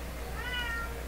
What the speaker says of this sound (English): That's my cat outside.